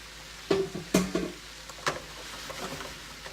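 Asian vegetables and shiitake mushrooms tossed in a hot pan: a few quick clattering scrapes and light sizzles in short bursts, close and fairly quiet.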